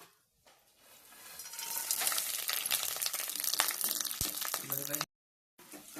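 Green chillies and finely chopped dried coconut hit hot oil and fry with a loud, dense sizzle that swells up within a second, crackles steadily for several seconds, then cuts off abruptly.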